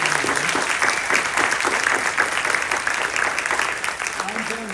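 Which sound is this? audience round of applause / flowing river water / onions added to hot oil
audience round of applause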